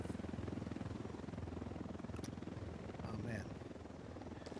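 Helicopters in the video game Ghost Recon Wildlands make a steady, loud rotor chop that drones overhead through the whole stretch, with a voice speaking briefly over it.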